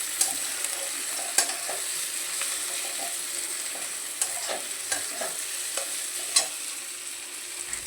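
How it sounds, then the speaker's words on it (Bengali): Sliced onions with a pinch of salt frying in a pan, a continuous close sizzle punctuated by sharp clicks and scrapes of a spatula stirring at irregular intervals. "পেঁয়াজটা কিন্তু খুব ভালো করে ভেজে নিতে হবে।"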